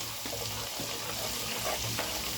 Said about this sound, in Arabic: حطيت شويه زيت وحته زبده. انا بحب احط شويه كمون كده صغيرين يدوا ريحه، شويه فلفل اسود